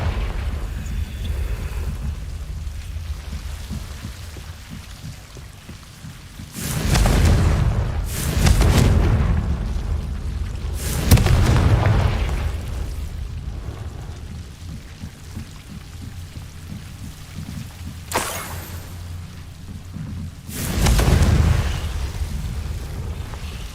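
Fire spell blasts from the Confringo charm in the game Hogwarts Legacy, several loud booming bursts spaced a few seconds apart over a steady rumbling ambient bed, with no one talking.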